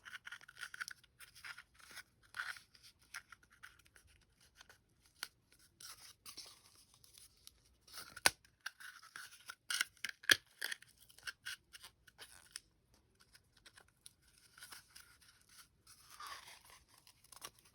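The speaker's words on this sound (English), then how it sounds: "And then use the duct tape." Duct tape is pulled and torn off the roll while a toy hammer is built from toilet paper rolls, giving quiet irregular ripping and crackling with several sharper tearing bursts, close by and without talk.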